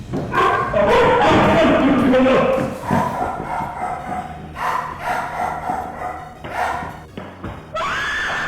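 A guard dog barks loudly and repeatedly at an armed intruder, sharp close barks mixed with shrill yelps and screams, ending with a sustained high tone.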